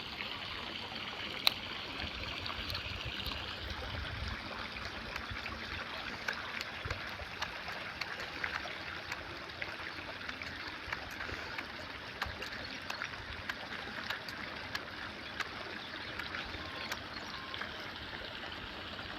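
Running water flows at an outdoor spot where people wash their hands and faces, giving a soft, steady, distant trickle with scattered faint clicks.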